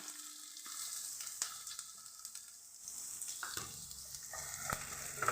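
Chopped onions sizzle and crackle loudly in hot oil after mustard seeds, with occasional scraping stirs and pops, close up and without voices.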